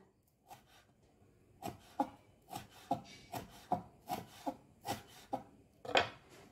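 Leaves with the midrib removed being finely sliced with a knife for Minang gulai cincang, about a dozen crisp, distinct cuts at an irregular, unhurried pace, close and fairly quiet with no talk.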